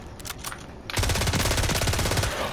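Gunfire in the video game Call of Duty: a couple of scattered shots, then sustained, rapid machine-gun bursts at close range that stay loud and continuous to the end, with no voices.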